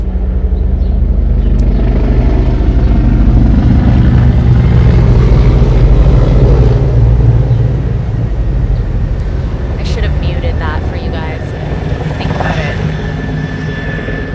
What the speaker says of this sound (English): helicopter and it like went right over my roof